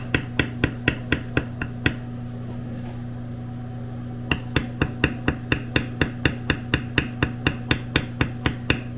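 A metal leather beveling tool is struck repeatedly with a mallet while tooling a square leather coaster, producing sharp, evenly spaced close taps in a steady rhythm with a brief pause midway, over a constant low electrical hum.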